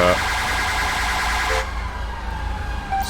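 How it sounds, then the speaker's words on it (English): A loud electronic police siren in GTA 5 wails steadily for a moment, then cuts off abruptly, leaving a lower hum and faint background noise. "stop our siren wailing here"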